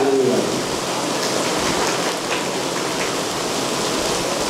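Steady rain pours outside a meeting hall in Patan during a youth gathering, a dense continuous hiss with no breaks, fairly loud and even throughout, with no voices over it.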